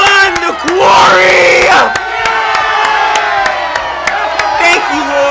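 Crowd at a summer camp event, a loud burst of cheering, whooping and shouting voices that rises, dips and keeps going close by throughout.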